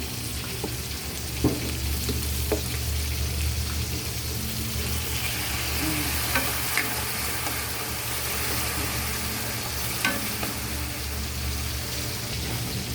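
Onion sautéing with fish sauce in a pan for a squash and string bean coconut dish, a steady loud frying hiss with occasional faint clinks of a spatula and a low background hum.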